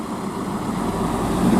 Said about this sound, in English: All the sounds of these trucks.